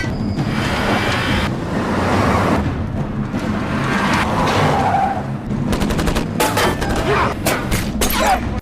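Bursts of gunfire hit a fleeing car during a vampire film chase, mixed with engine roar and skidding. Sharp rapid volleys dominate the last few seconds, loud and close, over a busy action soundtrack.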